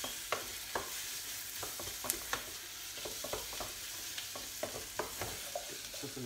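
About two tablespoons of tomato puree cooking in a pan for tomato soup, stirred with a utensil that taps and scrapes in an irregular rhythm over a soft, steady sizzle; no one speaks.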